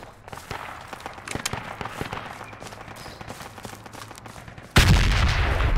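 Frag grenade explosion in the military shooter Project Reality, a sudden loud broadband boom near the end that follows a stretch of scattered gunfire cracks and footsteps.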